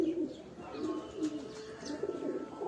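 Pigeons coo in soft, repeated throaty phrases at close range over low background murmur.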